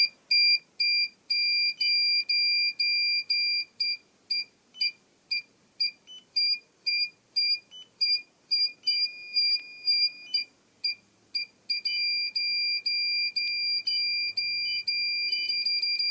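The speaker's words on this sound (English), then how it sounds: "What if I give it a self-oscillating beeper here?" Self-oscillating electronic beeper hooked to a repaired Elektronika clock, emitting a shrill pure tone in rapid irregular on-off beeps that settle into a longer continuous stretch, loud and close, no speech.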